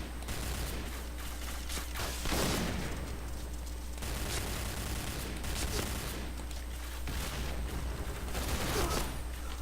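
Rapid bursts of gunfire in the video game Point Blank crackle over a constant low hum, with several louder volleys spread through the clip and no talking.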